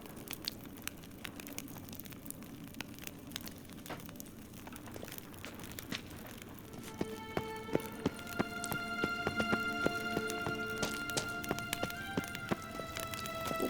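Horse hooves clip-clopping in the video game The Witcher 3, a steady run of quick, moderately loud hoofbeats under a busy game soundscape with chiming tones joining partway through.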